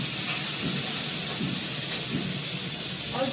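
Tomatoes added to a hot pan, sizzling with a steady, loud, broad hiss that holds evenly throughout, alone and close.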